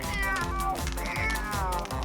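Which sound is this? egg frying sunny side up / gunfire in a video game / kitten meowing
kitten meowing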